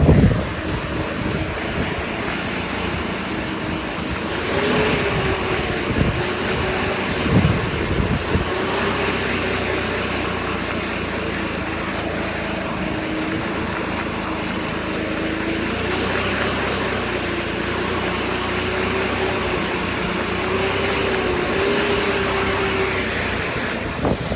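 Leaf blower running continuously while blowing pine needles off a lawn, a steady loud whooshing roar with slight pitch wavering throughout, close by and alone.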